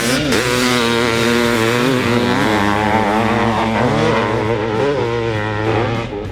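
A 500cc two-stroke motocross project bike engine revs loud and close, its pitch rising and falling through repeated throttle blips in a continuous, rough-edged drone.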